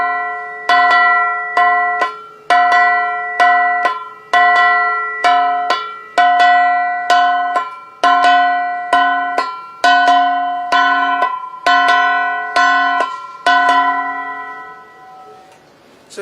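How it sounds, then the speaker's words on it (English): A Cordillera gong struck in a steady repeating beat, bright metallic ringing strokes with sustained overtones, about twenty evenly spaced hits that fade out at the end, played alone. "Now, for the second or for the third gong, here is how it is played."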